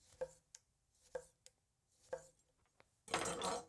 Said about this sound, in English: Let's do some tomato slicing.